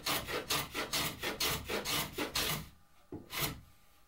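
A hand plane is pushed along a wooden LED stand in about nine steady, evenly spaced strokes. Each stroke gives a close, rasping swish, with a brief pause and one final stroke at the end.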